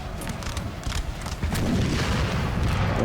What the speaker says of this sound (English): That's from the assault cannons.